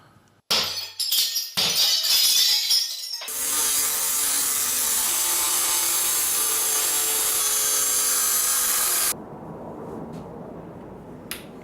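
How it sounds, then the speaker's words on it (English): An old window frame is levered out of a workshop wall, with loud cracking, splintering and crunching bursts, then a long harsh grinding scrape before it suddenly stops. "The second window was much more difficult to lever out of the wall"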